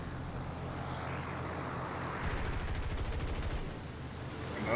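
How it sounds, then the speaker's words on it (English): A propeller bomber in the War Thunder combat game drones in with a steady engine hum, then a short burst of rapid gunfire rattles for about a second and a half before the engine tone carries on alone. "And that's a bomber."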